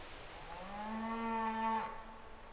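A single cow lets out a long, rising moo in an open mountain valley, close and clear, with a slight downward fall at the end and no talk over it.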